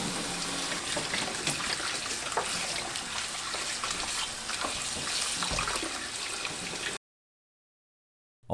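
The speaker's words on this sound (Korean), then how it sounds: "절인 배추는 물에 3번 반복해서 헹굽니다" Salted napa cabbage being rinsed in water for kimchi, a steady broadband splashing and gushing that continues for about seven seconds before stopping, close and moderately loud, with no voices.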